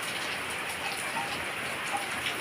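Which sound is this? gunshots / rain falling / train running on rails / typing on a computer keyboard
rain falling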